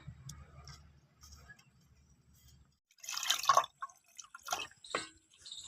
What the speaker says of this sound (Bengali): রসুনটাও ধুয়ে নেব